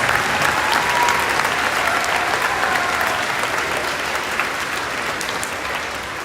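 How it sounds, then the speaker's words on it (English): A crowd at a school Veterans Day assembly applauds honored service members, the clapping loud, full and continuous for several seconds, with only a slight easing toward the end. "Let us all join together in giving these men and women a heartfelt round of applause one more time"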